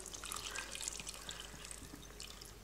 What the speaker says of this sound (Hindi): उसमें आप 1 कप पानी डालें। मैं 1/2 कप ऐड कर रही हूँ।